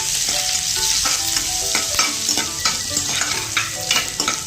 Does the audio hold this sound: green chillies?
yes